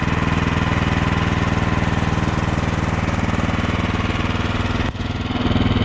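Troy-Bilt snowblower engine running steadily after warm-up, a loud, close, evenly pulsing small-engine drone with a brief dip near the end before it picks back up.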